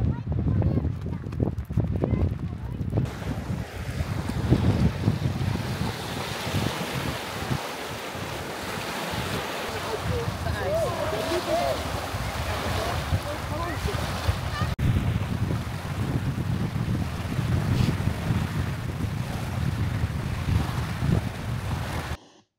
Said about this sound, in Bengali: কি যে বাতাস ছিল, আর এখানকার ঢেউগুলো দেখে